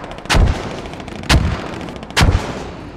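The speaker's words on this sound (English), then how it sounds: "These are beautiful mortars." Three heavy mortar impacts boom one after another in the military video game Squad, each a sharp, loud blast about a second apart with a rumbling tail over a steady background of battlefield noise.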